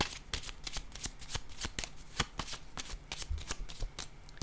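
Tarot-style cards are handled and laid down, producing a rapid series of crisp papery flicks and slaps close by, without talking.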